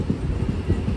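A goods train rolls past at a railway crossing, a steady low rumble with faint rhythmic wheel clatter close by, no voices.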